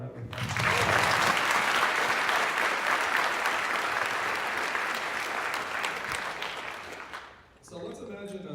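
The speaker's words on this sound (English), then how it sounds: "Let's give her mom a round of applause." Audience gives a round of applause for a nephew's mom at a livestreamed housing politics talk, dense sustained clapping from many hands that fades out before speech resumes at the end.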